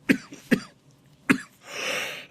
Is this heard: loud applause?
no